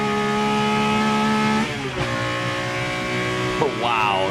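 BMW M1 ProCar race car heard onboard, engine droning loud at high revs then dropping sharply as it shifts gears twice, pitch climbing again after each change.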